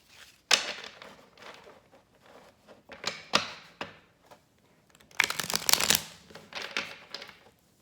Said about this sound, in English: I'm going to do a good hard shuffle.